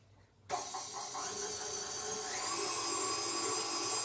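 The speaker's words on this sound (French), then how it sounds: "Donc ces blancs, je vais les mettre à monter" An electric mixer starts abruptly and whips egg whites with a pinch of salt, a loud steady high-pitched motor whine with a slight rising sweep, close and uninterrupted with no talking.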